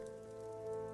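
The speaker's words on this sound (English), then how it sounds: "Raindrops gathered near the top of the glass and slid down in slow trails" Steady rain patters against window glass in a quiet, calm setting, a soft continuous wash of drops with faint tonal hum beneath, no voices present.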